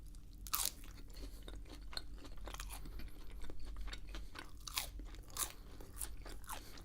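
Close, quiet crunching and chewing of McDonald's food dipped in creamy buffalo sauce, with irregular crisp bites rising over a soft, steady background.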